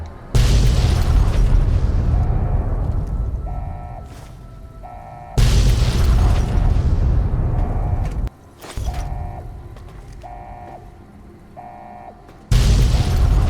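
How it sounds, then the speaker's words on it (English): Repeated loud booming blasts from Fallout: New Vegas (Lonesome Road DLC) erupt every few seconds, each followed by a fading rumble, with faint electronic beeps and tones between them. "can you stop with the explosions already?"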